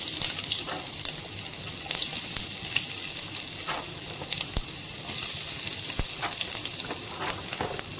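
Six onions fry in a pan for egg Maggi, giving a steady close crackling sizzle with occasional sharper pops and stirring scrapes, no voices.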